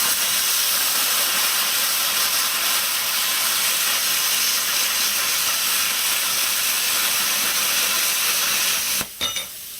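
A Simder SD4050 Pro cutter slicing through steel gives a loud, steady, close hiss that runs unbroken for about nine seconds before cutting off abruptly.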